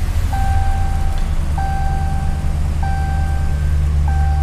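A Dodge Ram 1500 with the 5.7L Hemi idles inside the cab as a steady low rumble, while a clear warning chime repeats in short tones over it at regular intervals.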